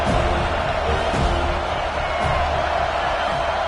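A stadium crowd roars in a college football video game, Tennessee against Florida State, a broad sustained cheer with a commentator speaking over it.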